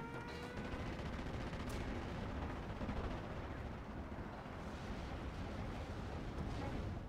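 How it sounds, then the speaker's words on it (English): Bomb drop explosions in the WWII strategy game Steel Division: 1944, a continuous low rumbling barrage of blasts and crackling heard at moderate distance, fairly faint and steady across the whole stretch. "The way that bomb drop is done is really, really weird."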